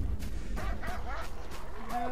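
Dogs bark in the video game Lost Alpha during a nighttime stretch in the North Hills, a few short yips and barks spread over a steady low background, moderately close.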